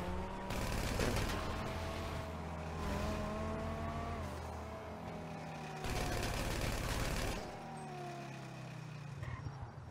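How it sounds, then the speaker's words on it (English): Gunfire from enemies in GTA V rattles in sustained bursts beneath roaring, revving car engines and tire noise, a dense, loud game-action mix with no clear pause. "Oh my god, there's still people shooting."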